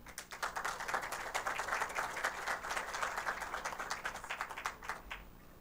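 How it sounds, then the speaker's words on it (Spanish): Audience applauding a speaker at an event on electromobility in Antofagasta, a sustained crisp clapping of many hands that holds steady and then tapers off. "le brindamos un fuerte aplauso a él también"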